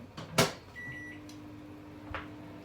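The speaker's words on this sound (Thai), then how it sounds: "เดี๋ยวเอานี่ไปเข้าไมโครเวฟอีกหนึ่งรอบสองรอบแล้วแต่ ให้มันร้อนร้อน" A microwave oven heating a bowl of noodle soup with bean sprouts in a home kitchen: a steady low hum runs through, with a clunk at the start, a brief high tone and a later knock.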